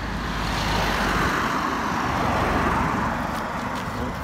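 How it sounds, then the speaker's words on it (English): Steady roar of road traffic passing close by, a continuous broadband wash of tyres and engines with no talk over it. "Man, the traffic close."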